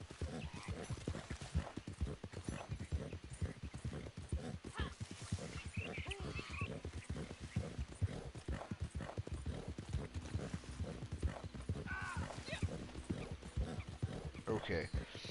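Horse hooves clip-clop steadily in the video game Red Dead Redemption Online, a brisk, continuous rhythmic trot close by, with a brief whinny and a person talking over it.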